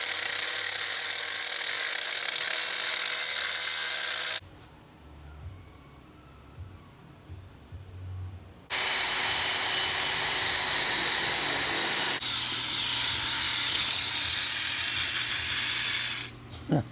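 A power drill bores holes through a 2x4 wood board in long, loud bursts of grinding and whirring. Quieter stretches of low rustling and handling noise separate the bursts.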